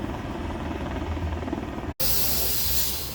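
A helicopter circles over a lifeguard rescue at Leblon beach in Rio, giving a steady, hissing rotor drone that cuts out briefly and then returns louder.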